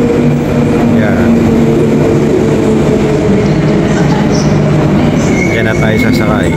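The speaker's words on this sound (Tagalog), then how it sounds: "ang train ng Fremantle" A Fremantle line train rumbles at a Perth station platform, a continuous loud low roar with faint high squeals and tones, while people talk close by.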